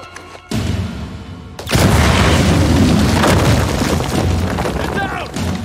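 A loud explosion goes off in the video game Uncharted 4, with a sharp blast followed by a sustained roaring, crackling rumble that slowly fades. Faint game sounds and brief voices sit underneath.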